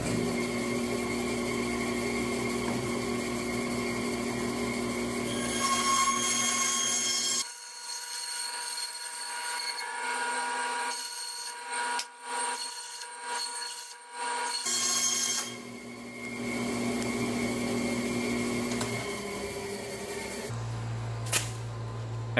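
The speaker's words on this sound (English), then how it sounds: "I'm going to cut it on the bandsaw." A bandsaw cuts through cotton-impregnated rubber mud flap, a steady droning whine with rasping texture that drops out partway through, then resumes, loud and close with no talk.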